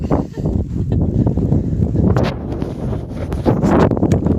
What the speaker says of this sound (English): the wind is much lighter than it was, but the wind is real